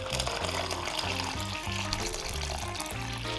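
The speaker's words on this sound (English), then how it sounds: "Pour the water into the centre of the bowl." Water poured into the centre of a mixing bowl for a rustic bread dough, a steady close wash of liquid running for several seconds under rhythmic background music.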